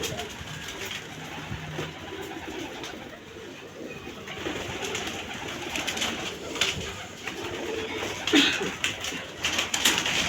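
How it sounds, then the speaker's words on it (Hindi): Pet pigeons kept by a pigeon fancier coo steadily at close range, their soft throaty calls repeating over a busy background with occasional light knocks and rustles. "ये मेरा 50 लाख रुपए का कबूतर है"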